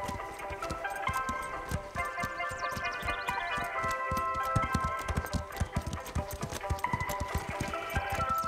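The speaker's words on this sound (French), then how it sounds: "Nos chevaux vont devoir marcher au-dessus de ces ficelles." Horses walking with steady clip-clopping hooves, a brisk regular rhythm of close, distinct hoof strikes accompanied by light music-like tones in an animated show.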